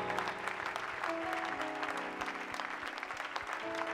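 A church congregation at a French-language seminar claps enthusiastically, the applause dense and lively throughout with a voice and musical tones ringing beneath it.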